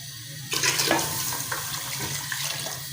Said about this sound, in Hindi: पानी थोड़ा सा और डाल लेते हैं।